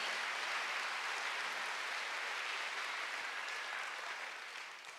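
Church congregation applauding during a Sunday worship service, a steady broadband wash of many hands clapping together that holds evenly and then tapers off toward the end.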